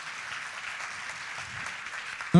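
A church congregation at a missions service applauds with steady, dense clapping that fills the room at an even level throughout, with no voices standing out.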